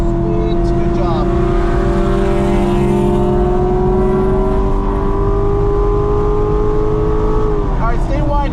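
A car accelerates hard around the Burt Brothers Motorpark East Track, its engine a loud, steady in-car drone that climbs in pitch, then drops sharply near the end with a gear change, while voices talk underneath.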